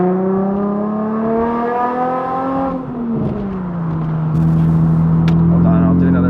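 A Nissan 350Z with a new aftermarket exhaust revs up from inside the cabin, its engine tone climbing, dipping, then settling into a loud, steady drone, close and continuous.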